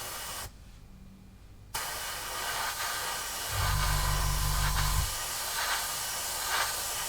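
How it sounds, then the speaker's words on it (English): Airbrush or spray can misting an intercoat of metallic paint onto a model swing panel, a soft close hiss in several short bursts with brief pauses between them. "spraying it exactly as I normally would for an intercoat"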